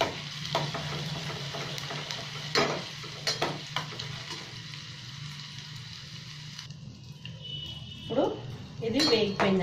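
Ginger garlic paste fries in a pan with a soft sizzle, punctuated by a spoon scraping and clinking against metal. The sizzle fades midway, and sharper clatter of utensils follows near the end.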